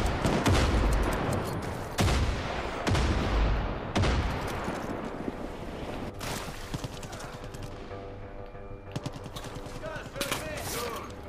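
Weapon fire in the video game Far Cry 5: several loud, sharp shots ring out at roughly two-second intervals, each decaying into a long tail, followed by quieter clicks and game sounds.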